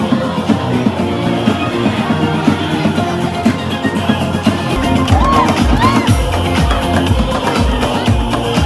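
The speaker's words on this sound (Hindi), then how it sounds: "अब डीजे के आसपास भी बहुत भीड़ बढ़ने लग गई थी, सब आके फ्लोर पे डांस करने लग गए थे।" A dense party crowd packs the dance floor around a DJ at a Bali venue, a steady wash of voices with scattered whoops and cheers rising near the end, loud and close.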